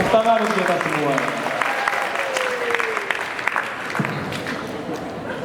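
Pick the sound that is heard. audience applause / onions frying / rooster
audience applause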